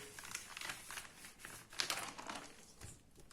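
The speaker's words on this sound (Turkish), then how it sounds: "Ben sıkı olmasını istediğim için poşete sarıyorum." Plastic bag crinkling and rustling up close in irregular bursts as stuffed vine leaves are wrapped tightly, with no talking.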